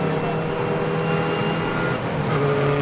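A Radical race car drives at Silverstone heading down toward Stowe in drying conditions, its engine a loud, steady, sustained drone throughout with no voices.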